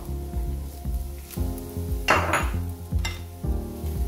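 A spoon stirs onion, carrot and tomato in a pan of rice and beef, giving rhythmic metallic scraping and clinking over a steady sizzle, with one louder burst of frying partway through.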